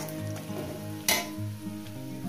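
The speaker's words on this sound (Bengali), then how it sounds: "আলু আর পেঁয়াজটাকে আমি সুন্দর করে লাল লাল করে ভেজে নিয়েছি।" Potatoes and onions fry in a pan for a Bengali parshe fish curry, giving a steady low sizzle with a brief louder burst of stirring midway.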